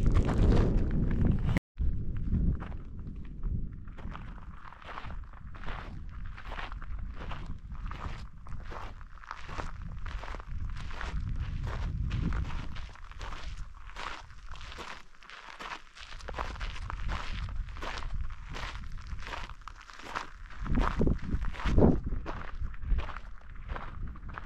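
Footsteps crunch steadily across noisy ground at Fort Union in New Mexico, with regular close, loud steps for about twenty-five seconds and no talking.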